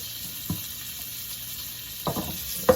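Sweet Italian sausage fries in a pan with a steady low sizzle, broken by three brief clatters of a utensil turning the links, close and with no voices.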